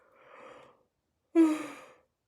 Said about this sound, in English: I can't believe how rude I feel yawning